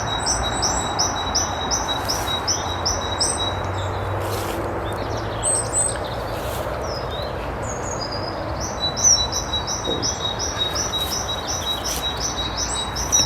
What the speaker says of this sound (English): Somewhere in this tree there's a, sounds like a blackbird